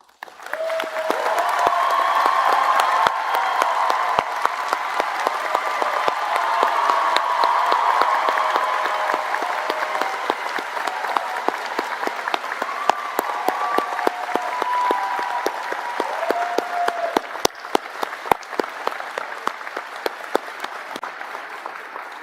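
Convocation audience applauds the faculty in sustained, dense clapping lasting over twenty seconds, with a crowd murmur and a few cheers underneath, gradually thinning toward the end.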